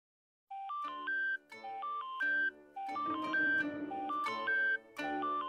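A cartoon phone ringtone plays as a repeating electronic melody of bright beeping tones, loud and close, in several short phrases with brief gaps and a busier musical passage in the middle.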